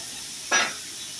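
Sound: egg and cabbage mixture sizzling while being stirred in a pan

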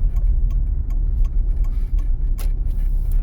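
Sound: car's right turn signal ticking

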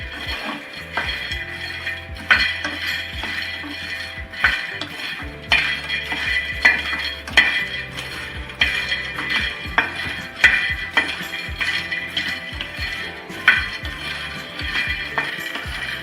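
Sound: makhana (fox nuts) being roasted and stirred in a pan

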